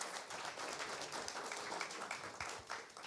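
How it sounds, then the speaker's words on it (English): An audience at a district attorney candidate forum claps, a faint, steady patter of many hands heard from a distance. "Round of applause."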